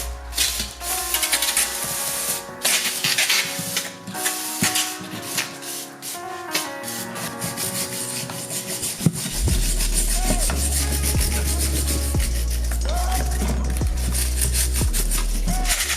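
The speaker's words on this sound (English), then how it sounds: "take the brake cleaner with a little steel wire brush, clean it up" Continuous harsh rasping and hissing as a steel wire brush scrubs a car brake part alongside brake cleaner aerosol spray, steady and close for the whole stretch.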